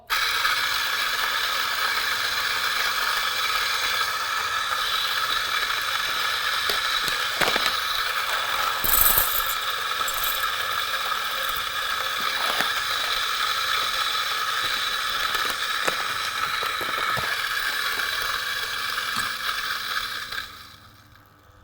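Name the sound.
coffee grinder grinding beans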